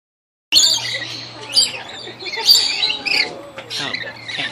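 Lorikeets at the Oregon Zoo give loud, close bursts of shrill squawks and chirps in a rapid, irregular series, with a low steady hum underneath.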